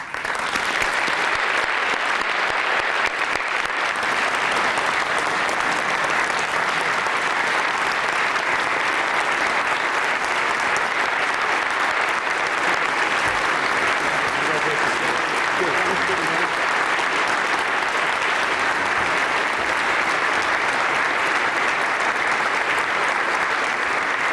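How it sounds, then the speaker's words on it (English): Sustained audience applause at an award luncheon honoring a mayor, a steady wash of many hands clapping in a hall, loud and unbroken for over twenty seconds. "join me in giving a big round of applause for Mayor Frank Jackson"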